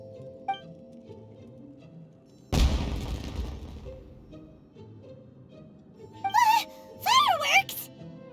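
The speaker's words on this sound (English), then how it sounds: "Was that an explosion? It sounded like fireworks." Fireworks in the open-world game Genshin Impact: a sudden loud boom and crackling burst after a quiet stretch, followed by whistling rising and falling tones and further pops, alongside game music.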